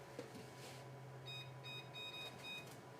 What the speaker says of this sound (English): I'm gonna start the timer.